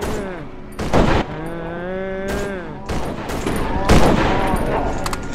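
Gunfire in the horror video game Cry of Fear: several sharp, loud shots ring out in separate bursts, with a voice droning underneath between them.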